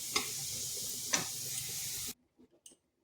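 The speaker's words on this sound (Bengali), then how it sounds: "এই রসুনগুলোকে একটু লাল লাল করে ভেজে নেব" Garlic fries in hot oil in a pan until reddish, a steady close sizzle with a couple of utensil clicks, cutting off abruptly and followed by a few faint taps in near silence.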